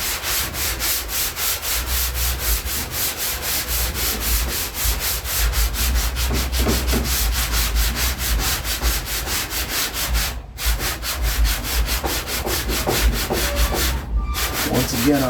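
Continuous close sanding on wood as an edge is fine-tuned, a steady rasping rub with brief pauses near the end.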